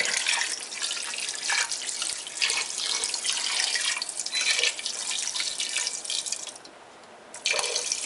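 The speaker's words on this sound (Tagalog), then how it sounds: "Tapos lagyan natin ng tubig." Water poured from a container into a cooking pot for a Kapampangan dish, a steady splashing pour running several seconds, pausing briefly, then resuming, with no talk over it.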